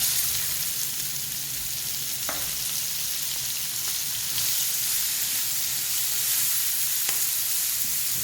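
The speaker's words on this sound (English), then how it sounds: "turn the heat down and add your onions in." Onions sizzle in a hot pan alongside hamburger steak, a steady broadband frying hiss running close and even throughout, with a couple of faint clicks and no voices.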